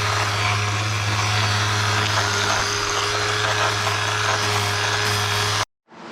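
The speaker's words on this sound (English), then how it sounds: "sanding the back of the cab" A steady, loud abrasive drone of sanding the back of an ex-army Unimog truck cab runs continuously with a constant low motor hum, then cuts off abruptly near the end.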